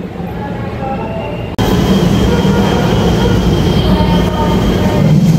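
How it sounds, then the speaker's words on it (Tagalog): A train rolls into a station with a loud, sudden onset of rumbling wheels and rail noise that continues steadily, close and dominant, with faint talk underneath. "Yun, may train na."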